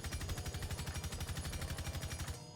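Rapid automatic gunfire aimed at a shooting-range target in Rainbow Six Siege, a fast, steady burst of close, punchy shots that cuts off abruptly near the end, with no talk.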